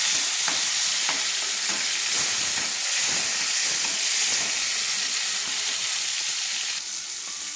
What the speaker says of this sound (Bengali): তেলটা আমার গরম হয়ে গেছে, কেটে রাখা টমেটোগুলো আমি দিয়ে দিচ্ছি। দিয়ে নেড়ে নিচ্ছি।